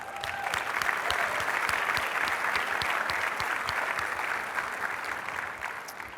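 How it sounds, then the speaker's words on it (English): A large conference audience at SXSW EDU applauds steadily, dense clapping that holds at a strong level throughout before easing slightly at the end. "let's give our sponsors a big round of applause"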